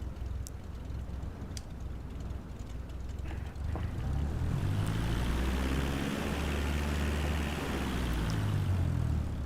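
Cessna 172 propeller engine taxiing in Microsoft Flight Simulator 2020, a steady droning hum that swells and grows a bit louder partway through, with faint clicks and no talking.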